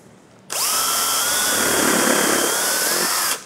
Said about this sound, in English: I can pre-drill my hole.